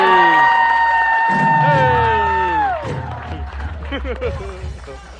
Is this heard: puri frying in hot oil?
no